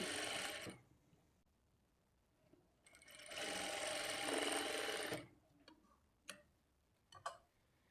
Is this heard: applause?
no